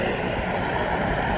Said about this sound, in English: That looks like another fire plane over there.